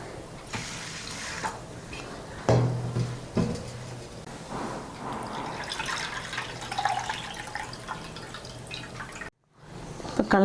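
Raw rice and moong dal being washed in water by hand, close wet swishing and sloshing with occasional louder knocks of grains and vessel, continuous and without talk, ending after a brief gap.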